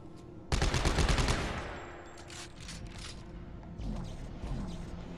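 The force gun in Dead Space 3 fires one heavy, thunderous blast, loud and close, then rumbles and crackles as it fades, followed by fainter impacts and debris.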